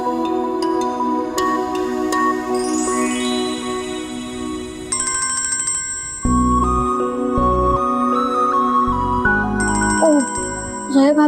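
A phone rings with an incoming call in a Pakistani comedy drama, a looping electronic ringtone melody of bright tones repeating over background music.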